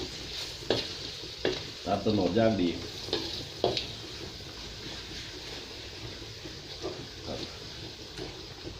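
Palm sugar is stirred as it melts in a small, fast-heating pan, giving an ongoing sizzle broken by several distinct scraping strokes, while someone talks briefly over the cooking.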